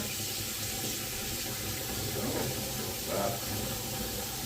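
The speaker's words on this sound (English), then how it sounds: "chill them off with some cold water." Cold tap water runs over boiled eggs in a kitchen sink, a steady, close, full splashing hiss continuing without break from start to finish, no voices.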